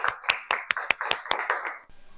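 An audience at a school reading competition applauds a young guest student with about nine crisp, evenly spaced claps that end abruptly, close and fairly clear, with no talking.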